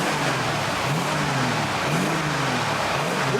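A Mercedes 560SEL W126 with a fuel-injected engine revs repeatedly, its rising and falling engine note loud and close under a steady background roar.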